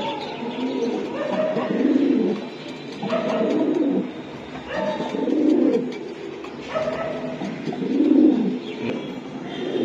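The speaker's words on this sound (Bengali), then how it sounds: "এটা একটা নর কবুতর" A male racing pigeon coos in repeated swelling phrases, about five rising-and-falling bursts at a steady rhythm, loud and close with no voices.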